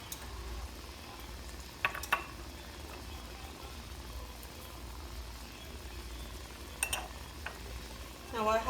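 Chicken frying in a pan gives a soft steady sizzle, with occasional clinks and scrapes of a utensil and a low hum underneath.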